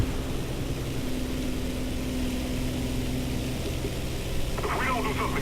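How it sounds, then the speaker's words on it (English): Stuka dive bomber propeller plane in War Thunder, loaded with bombs for anti-shipping strikes, giving a steady, continuous engine drone that holds level throughout, with a brief burst of other game noise near the end. "So we're going to take out a serious payload of bombs here in a Stuka, one of the best anti-shipping planes of them all."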